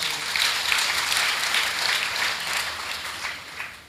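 An audience at a meditation gathering claps together, a soft, fairly distant patter of steady applause that fades slightly toward the end.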